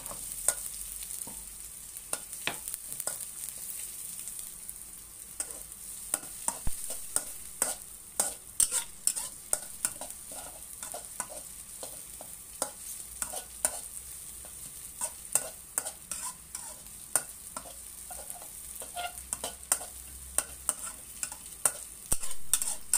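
Garlic and chili sizzle and crackle in a hot pan while stir-frying water spinach, with repeated scraping stirs punctuating the steady frying hiss.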